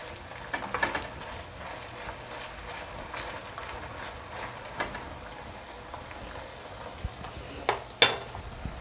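Onion and pepper get stirred in a pot for Jamaican ackee and saltfish, soft scrapes and light spoon clinks scattered over a quiet background, with one sharper clink near the end.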